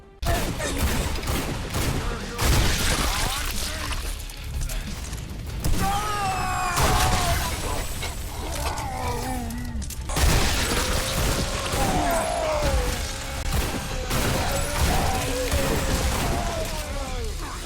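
Video game gunfire, steady punchy shots cracking over a busy mix of explosions and whooshing effects, with a voice faintly underneath.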